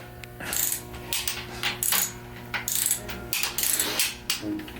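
Rapid ratcheting clicks from a wrench torquing bolts during a 440 engine build for a 1970 Duster, camshaft and crankshaft install, coming in short repeated bursts close by.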